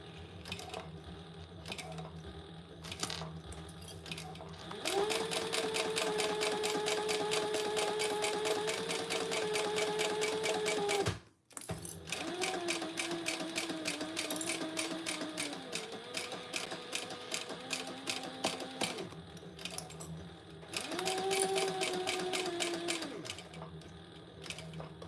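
A sewing machine stitches a wellness bag in long runs of rapid, even needle clatter with a steady motor whine, pausing briefly between runs and once falling silent near the middle, with no one talking.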